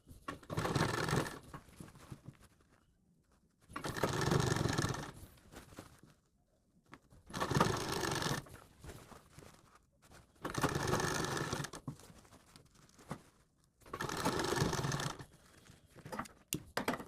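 A sewing machine stitches along the edge of a coat collar in five separate runs of rapid mechanical whirring, each lasting a second or two, with quiet pauses between them.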